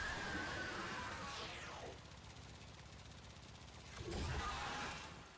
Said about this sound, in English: It's a generic dual-wielding pistol, but it's better than most, you know